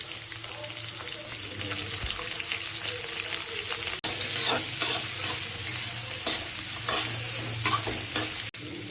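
Small cut potatoes and onions sizzle steadily in a hot pan for dal, with scraping stirs and a soft clatter of the utensil over the continuous frying hiss.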